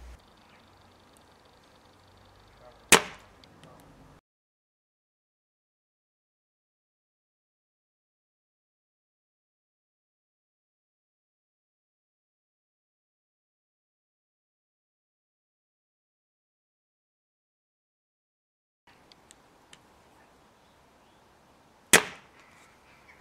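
Two sharp, fairly quiet cracks from a Gamo Whisper air rifle's internal action, one near the start and one near the end, separated by a long silence, with faint background hiss around each shot.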